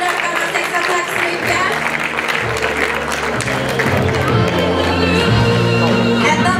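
An audience at a classic bodybuilding contest applauds the contestants with steady, dense clapping that keeps going throughout, under an announcer's voice and background music.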